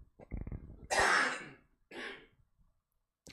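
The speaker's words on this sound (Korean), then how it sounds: "제가 계속 기침을 좀 자주 할 텐데" Two separate coughs from a lone speaker, the first a loud, harsh burst and the second shorter and fainter, close to the microphone in an otherwise quiet room, with a few soft breaths around them.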